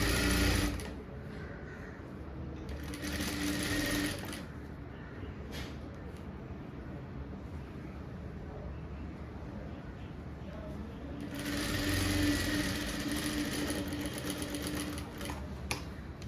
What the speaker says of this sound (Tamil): கழுத்து தைச்சி எடுத்துட்டேன்.